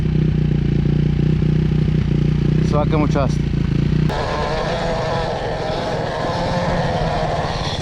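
A loud motorcycle engine rumbles close by, while a few brief spoken words and a sharp clatter cut in partway through.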